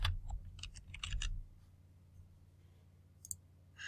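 Short bursts of computer keyboard typing, quick crisp clicks at close range, followed by a pause in a quiet room and a last few keystrokes.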